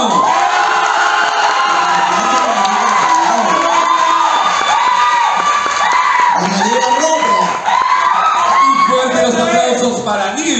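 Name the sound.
audience applause and cheering for Linda Brown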